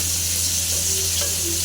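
Lightly boiled shrimp heads fry in hot oil with onion and chili, a loud continuous sizzle over a low steady hum, with a couple of faint stirring touches.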